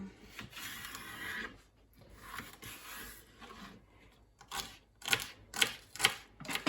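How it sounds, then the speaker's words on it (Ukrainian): A knife cuts celery stalks into cubes on a board during spaghetti bolognese prep, giving quiet irregular tapping that turns into louder, sharper regular chops near the end. "Ось так у мене дві селері і також їх на кубики кришимо."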